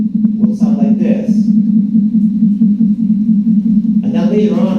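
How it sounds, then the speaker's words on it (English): A sonification of a red giant star's oscillations: a steady, low droning hum with a noisy, rumbling texture runs throughout, with a few brief higher tonal flutters over it. "when the sun will become a red giant initially,"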